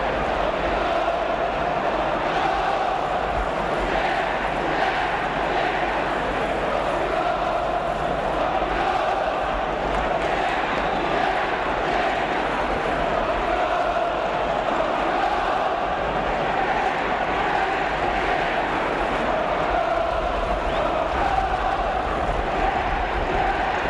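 Arsenal supporters fill a stadium during a 1969 League Cup football match against Swindon Town, producing a dense, continuous crowd roar of cheering that holds steady throughout, with faint commentary beneath.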